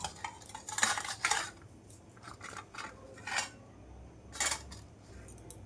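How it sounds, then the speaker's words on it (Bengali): Fish heads are added to a pan of tempered spices for Bengali shukto, cooked on low to medium heat, producing a few soft, quiet clatters and scrapes of utensil and pan. "এবারে আমি মাছের মাথাগুলো দিয়ে দেবো।"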